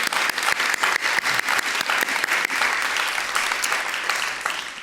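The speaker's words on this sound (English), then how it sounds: "let's give a big round of applause to Katharine." Sustained applause from a crowd, dense clapping that holds steady for several seconds with a few sharper claps standing out.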